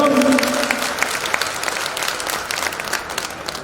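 Audience at a community welfare society event applauding for the women, a sustained dense round of clapping from a crowd, loud and close, with some voices mixed in.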